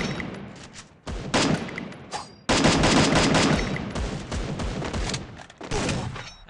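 Rapid automatic gunfire in the mobile shooter Free Fire, with loud close bursts of shots cut by short pauses. Long sustained strings of fire follow and taper off unevenly, with no talking.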